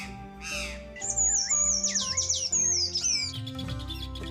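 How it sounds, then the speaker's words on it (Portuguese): Songbirds sing in the breeding season, among them thrushes, sparrows, wrens and tanagers: a close, lively run of varied whistled phrases, trills and chirps that overlap and follow one after another. "Uma variedade de aves inicia a cantoria para atrair"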